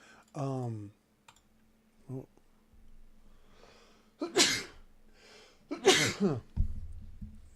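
A speaking voice briefly, then two loud, sharp sneezes close together, followed by a low buzzing rumble at the end.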